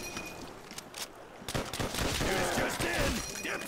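Bursts of automatic gunfire in a Call of Duty custom zombies map start quiet and sporadic, then swell into a dense, sustained volley, with a player's voice talking underneath.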